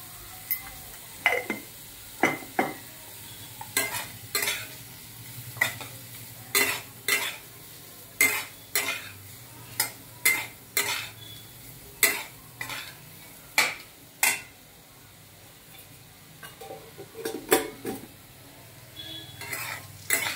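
Raw mango pieces are sautéed in oil in a pan, with repeated rhythmic scraping and tapping of a spoon against the pan over a soft sizzle, close up and steady throughout.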